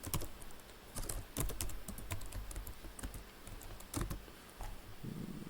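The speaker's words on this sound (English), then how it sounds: "And then I type in my password" A password being typed on a computer keyboard: a quick, uneven run of close, crisp key clicks with short pauses between bursts, alone with no talk.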